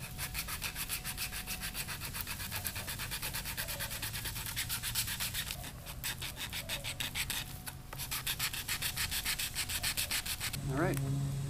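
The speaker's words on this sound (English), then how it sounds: "Guess I'll get to hand sand it on this one." Hand sanding a wooden crankbait fishing lure, a steady, close scratchy rubbing in quick rhythmic back-and-forth strokes that runs continuously, with a brief clatter near the end.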